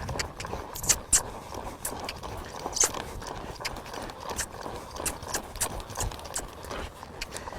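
A young horse canters uphill over uneven ground outdoors with soft, irregular hoof thuds. The sound stays faint and muffled, and a few brief clicks and knocks are heard along with it.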